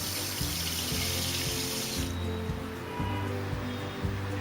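About ten cups of water pour into a pot in the kitchen for sugar syrup, a dense steady splashing stream up close that softens halfway through, over a faint rhythmic hum.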